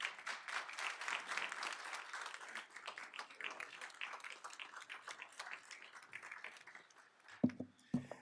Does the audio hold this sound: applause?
yes